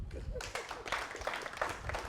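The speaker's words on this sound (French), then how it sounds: "On applaudit pour les deux" A studio audience applauds after a debate between two doctors, a dense patter of clapping at moderate distance that carries on evenly, with voices mixed in underneath.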